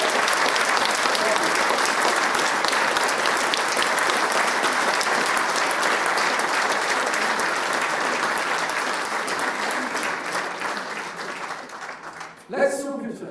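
An audience at a mayor's New Year address claps steadily and loudly for about twelve seconds, the applause thinning slightly before fading out at the end.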